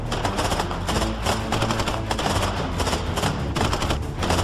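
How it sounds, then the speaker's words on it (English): Dense suppressive gunfire in a military video game, sustained rapid machine-gun bursts layered with overlapping shots, loud and continuous with no pauses. "Lay down suppressive fire."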